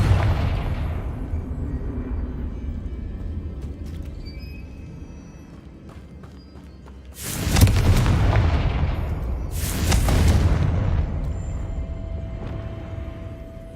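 Two heavy booming blasts from the Confringo fire spell in Hogwarts Legacy, a few seconds apart, each with a broad rumbling tail over low ambient drone.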